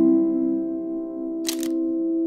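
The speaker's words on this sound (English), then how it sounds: "I'm gonna try to take a photo with a 200 millimeter, a 50 millimeter, and a 16 millimeter lens" A camera fitted with a 200mm lens fires its shutter once, giving a quick double click over a steady low background hum.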